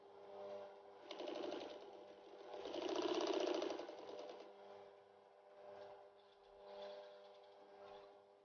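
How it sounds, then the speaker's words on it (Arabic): A sewing machine stitches along the folded edge of a plastic tablecloth, a faint, steady mechanical hum with rhythmic needle clatter swelling and easing in bursts. "كنحاول نطوي الجناب ديالو بجوج، وكنبقى غادي بالخياطه على الطول ديالو بنفس"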